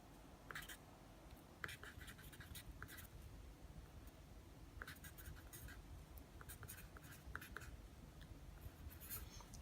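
Pen or pencil writing math on paper, soft close scratchy strokes in short irregular bursts over a faint steady background hiss.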